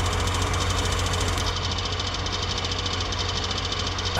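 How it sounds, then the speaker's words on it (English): A tuk-tuk engine idling in Farming Simulator 19, a small, rough, buzzy motor with a rapid knocking pulse running loud and steady, no talking. "Sounds like it's got a little weed whacker engine"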